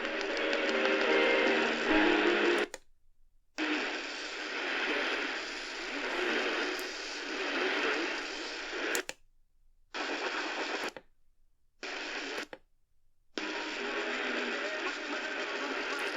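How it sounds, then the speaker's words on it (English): Classical music plays on medium-wave daytime reception through a Sangean MMR-88 emergency radio, thin and muffled, with several abrupt dropouts into silence as the signal cuts in and out. "Got some classic music there."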